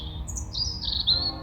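Birds chirp and tweet in the quiet woods of Cannock Chase, bright high calls sliding and repeating over a low rumble of distant road noise, fairly close and clear with no talking.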